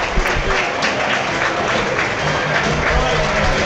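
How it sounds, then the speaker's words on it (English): Football crowd at an Eastleigh versus Boreham Wood FA Cup match applauding the man of the match, a broad continuous wash of distant clapping and crowd noise heard through a broadcast feed. "We'll let him soak up the applause."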